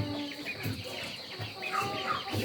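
Pet chickens clucking and murmuring just after being fed, soft scattered calls close by over faint background noise.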